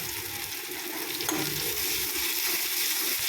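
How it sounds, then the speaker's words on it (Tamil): Steady, loud sizzling of onions frying in a hot pan, with a brief stir partway through and no talking. "அதுக்கப்புறம் வெங்காயம் போட்டுக்கோங்க"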